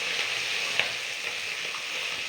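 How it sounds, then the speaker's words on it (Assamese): Pieces of fish sizzling steadily as they fry in a pan, a continuous close hiss of hot oil with a few small pops and no voices. "মাছখিনি এতিয়া মই ভাজি আছোঁ।"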